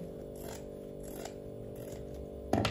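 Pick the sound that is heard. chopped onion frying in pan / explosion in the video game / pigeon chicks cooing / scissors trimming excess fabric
scissors trimming excess fabric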